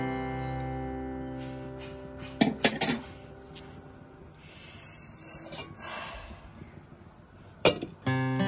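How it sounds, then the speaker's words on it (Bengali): Washed masoor lentils are stirred in a pot with a spoon, giving a soft wet scraping and shuffling with a few sharp clinks of the spoon against the pot, fairly quiet and close. "চামচ দিয়ে ভালো করে নেড়ে নিব সবগুলো।"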